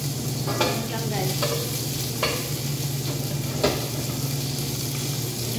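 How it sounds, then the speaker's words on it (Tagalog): Onion and garlic sauté in a hot pan, a steady soft sizzle broken by several sharp stirring scrapes of the utensil, with a constant low hum beneath. "Lagyan na natin ang ating sibuyas."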